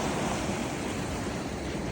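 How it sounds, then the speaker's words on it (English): Water rushes steadily at a waterfall pool on a trail, a dense, unbroken roar close by with no other sounds. "This is the waterfall."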